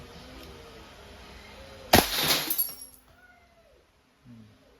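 Wingun 702S full-metal airsoft revolver fired in double action: a single sharp crack followed by a brief rattling tail, close and fairly loud, then quiet with a faint small click afterward.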